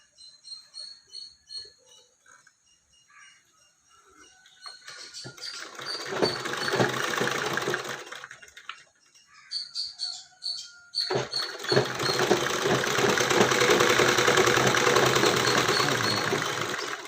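A sewing machine stitches a blouse in two running bursts, first a shorter one and then a longer steady mechanical whir, separated by quiet pauses with small clicks.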